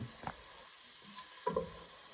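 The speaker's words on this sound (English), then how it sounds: "my pot where I have my onions that have been sauteing" Onions sautéing in a pot for cream of broccoli soup make a soft, steady sizzle, broken by a few clinks and scrapes of stirring, all fairly faint and close.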